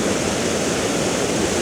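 Steady broadband roar of a waterfall in Glen Etive, Scottish Highlands, constant and fairly close with no other sounds over it.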